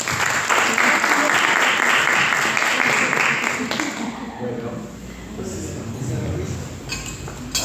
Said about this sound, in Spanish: el Steiner y el profesor Alejandro Zufiaure, para quienes pedimos un fuerte aplauso